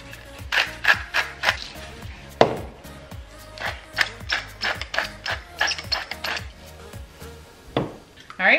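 White bean chicken chili ingredients with onion powder, cumin, salt and pepper are mixed in a crockpot: repeated scraping and knocking strokes of a spoon against the pot in a steady rhythm, close, under a mechanical ticking, with a person talking over it.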